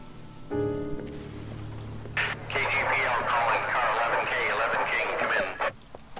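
Rain patters steadily in the L.A. Noire video game, a dense continuous wash following a brief radio tone, with a voice speaking faintly underneath.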